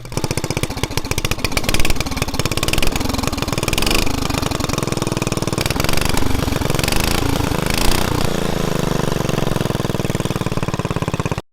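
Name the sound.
DIY motorcycle engine running after pull start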